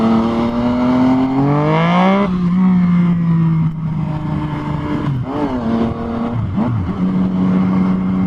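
Yamaha FZ-09 motorcycle with a quick shifter revving hard as it accelerates for a wheelie, loud and close, the engine pitch climbing steeply then dropping with a shift and rising again in short bursts.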